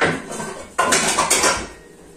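A frying pan knocks and clatters in a home kitchen, a few sharp metallic bangs and rattles close by, ringing briefly before fading.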